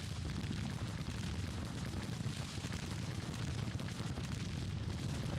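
Artillery fire on an American Civil War battlefield in Grand Tactician: The Civil War, a continuous rolling roar of overlapping booms, dense and steady throughout with no talk.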